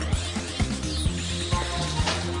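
A stove burner's igniter clicks steadily under a frying pan, a row of sharp, evenly spaced ticks about twice a second, close and fairly loud with no talking.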